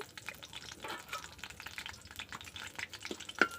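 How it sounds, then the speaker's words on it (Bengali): Dried red chillies and bay leaves fry in hot oil in a wok, a steady crackling sizzle with scattered pops and brighter spits, close and continuous with no talking. "শুকনো লঙ্কা তেজপাতাটা ভালোভাবে ভেজে নেওয়ার পরে"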